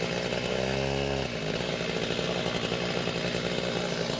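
A gas-powered cut-off saw starts with a rough idle and then revs up into a loud, steady, high-pitched engine whine that runs without pause through the clip.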